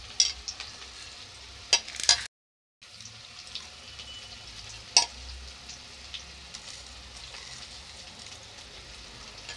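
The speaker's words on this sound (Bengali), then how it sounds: "তো এখন তেলের মধ্যে পেঁয়াজগুলো দিয়ে দেবো।" Chopped onions fry in hot oil for a jackfruit korma, giving a steady broadband sizzle with occasional sharp clicks and stirring knocks, briefly cut to silence partway through.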